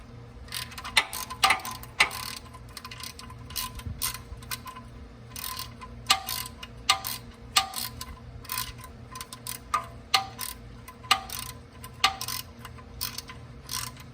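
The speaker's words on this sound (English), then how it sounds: "we're going to torque this down to 22 foot-pounds" A hand ratchet clicks in quick bursts while snugging the oil drain bolt under a Porsche Cayenne 3.6 V6, sharp close metallic ticks repeating irregularly over a faint steady hum.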